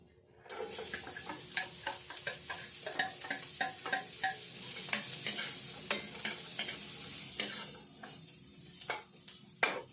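Onions fry in a hot pan while a home cook prepares a vegetable dish with bitter gourd, giving a steady sizzle broken by repeated sharp scrapes and clinks of stirring close by, with no talk.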